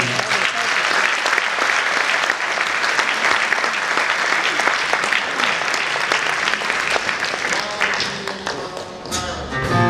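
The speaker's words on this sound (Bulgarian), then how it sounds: "Моля вашите аплодисменти." Audience applause at a radio station anniversary concert, a full steady clapping that thins slightly near the end as music begins to come in.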